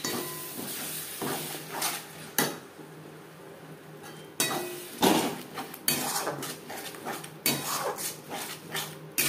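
A metal spoon stirs tomato paste and whole spices in a pot for chana masala cooked with mutton fat, giving repeated clanks and scrapes against the metal between quieter stretches of stirring, with no talking.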